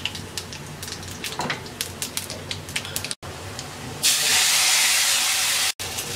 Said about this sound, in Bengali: রসুনটা ব্রাউন কালার করে ভেজে নেওয়া হয়ে গেছে। এবার আমরা ডালের মধ্যে ঢেলে দেব।